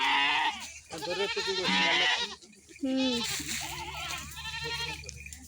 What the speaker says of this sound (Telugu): గొర్రెలు మేకలు 2 ఉన్నాయి ఫ్రెండ్స్ ఇందులో అయితే